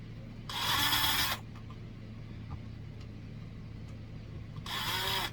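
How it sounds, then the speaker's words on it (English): Two short bursts of a power drill whirring at high speed through wood, the first about a second long, the second starting near the end, over quiet background hum. "let's just drill a hole"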